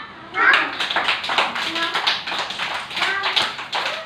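Children clapping their hands together in a classroom action-word drill, a run of quick, fairly close claps with a teacher's voice and kids' voices mixed in.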